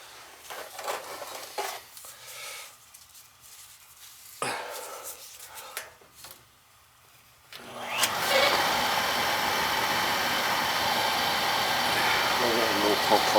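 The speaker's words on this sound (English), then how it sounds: "Plug that in, we'll bleed the pump." An oil boiler pump starts up and runs while being bled, first a few scattered clunks and handling noises, then a loud, steady mechanical whine and hum that continues to the end.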